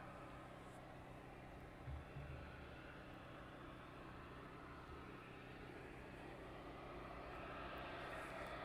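A DHL Boeing 757 on final approach at East Midlands Airport at night, heard as a faint, steady, distant engine roar that holds evenly throughout with no voices.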